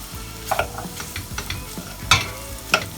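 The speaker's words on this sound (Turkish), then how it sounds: "İçerisine kıymamızı atıyoruz." Minced meat drops into a pan of sautéed, pinkish onions with a soft sizzle, followed by a few sharp spoon-against-pan clatters as it is stirred, close and alone.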